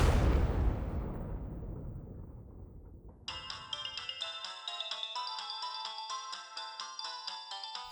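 A phone ringtone in a Telugu TV serial scene starts a few seconds in, after a fading low rumble, and repeats a bright, clear melodic pattern of electronic tones.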